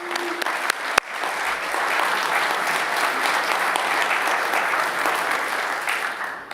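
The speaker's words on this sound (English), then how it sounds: "So please join me in thanking the inaugural ambassador class." A conference audience applauds the inaugural ambassador class of an open source foundation, a few sharp claps at first swelling into a full, sustained round of clapping that carries on to the end.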